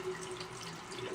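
Tap water running into a sink while a makeup brush is rinsed, a faint, steady hiss with soft splashing over a brief moment, no talking.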